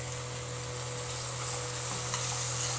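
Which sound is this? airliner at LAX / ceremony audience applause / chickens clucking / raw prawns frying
raw prawns frying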